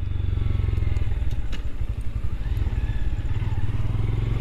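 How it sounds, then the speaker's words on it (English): A Honda Grom motorcycle on a night ride, with a steady, close engine drone and a buzzing exhaust note plus some wind and road clatter, heard alone. "It's the first time taking out the Honda Grom at night."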